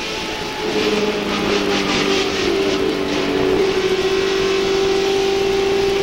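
Onboard sound of a stock car racing among other cars at the 1997 DieHard 500, a steady loud engine drone that shifts pitch as the driver backs off.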